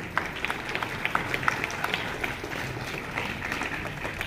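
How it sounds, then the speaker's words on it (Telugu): Students at a school assembly clap for Kamala Meharana, a steady patter of many hands filling the room at moderate loudness, with scattered sharper claps over a busy crowd background. "a big clap for Kamala మెహరానా"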